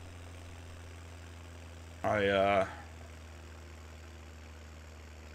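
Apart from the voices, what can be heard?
tractor engine idling in farming video game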